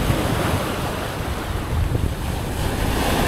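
Large sea waves surge and crash amid strong wind buffeting the microphone, a steady roaring wash at a fishing spot where boats are heading home, loud and continuous throughout.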